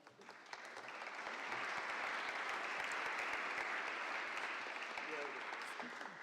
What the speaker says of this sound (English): I will ask you to give a last round of applause for our speakers.